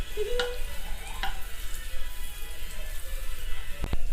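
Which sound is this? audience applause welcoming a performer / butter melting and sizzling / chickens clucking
butter melting and sizzling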